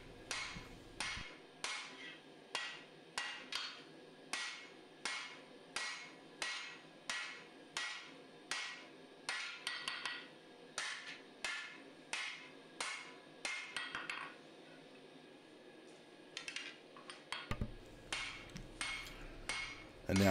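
Hammer forging the bevels of a Musso-style Bowie knife blade, drawing them out toward the tip: a long run of sharp, evenly spaced metallic blows, roughly one per half second, with a short pause partway through and no talk.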